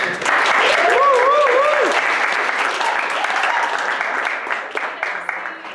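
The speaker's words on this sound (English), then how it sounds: "we just wanted to have a quick round of applause" An audience at an improv comedy show gives loud, sustained applause that slowly thins toward the end, with a few whoops and cheers in the first seconds.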